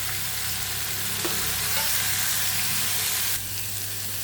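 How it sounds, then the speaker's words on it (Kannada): Garlic and onion frying in a pan as mint, tomato and coconut go in, a steady close sizzle and hiss throughout, with a brief stir or clatter near the start and the sizzle dropping slightly toward the end. "ಬೆಳ್ಳುಳ್ಳಿ ಈರುಳ್ಳಿ ಫ್ರೈ ಆಗಿದೆ ಪುದೀನ ಹಾಕ್ತಿದ್ದೀನಿ ಮತ್ತು ಟೊಮೊಟೊ ತೆಂಗಿನಕಾಯಿ ಹಾಕ್ತಾಯಿದ್ದೀನಿ"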